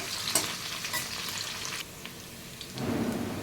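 Ingredients for a pulao fry over medium heat in a pan while being stirred, a close sizzle with scraping strokes that dips briefly and then swells again, with no speech.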